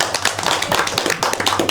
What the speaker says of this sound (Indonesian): Tepuk tangan untuk Mbak Balkis